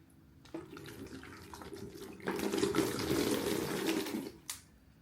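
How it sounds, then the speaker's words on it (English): Water pours into a thin bucket while fabric wall art is being made, a steady splashing flow that swells louder midway and then stops abruptly, with no talk. "Add a little bit of water in there."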